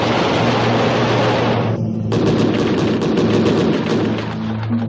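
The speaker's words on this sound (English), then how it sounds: "The powerful 6-barrel cannon deserves a separate attention." A powerful six-barrel aircraft cannon roars in sustained, loud bursts of rapid fire, a dense mechanical rattle with a brief break in the middle before firing resumes for several more seconds.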